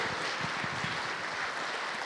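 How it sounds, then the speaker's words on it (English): Audience at an event applauds, a steady wash of many hands clapping, fairly faint and distant, with no talking. "We could give them another big round of applause."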